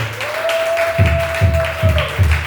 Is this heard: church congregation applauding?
yes